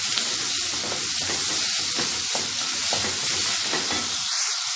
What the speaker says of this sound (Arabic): وهقلب فيها لحد ما تبتدي تحمر شويه